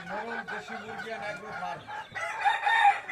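A desi rooster on a farm crows in drawn-out harmonic calls close to the microphone, followed by a brighter, louder burst near the end.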